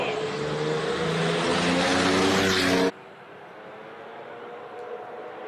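A classic race car with a 3.6 litre turbocharged engine at a Cape Town classic car speed event, roaring loudly and steadily before cutting off abruptly to quiet background noise.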